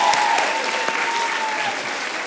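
A live comedy stage show audience claps and cheers in a steady, dense wash of applause that holds at full strength throughout, with no voices rising above it.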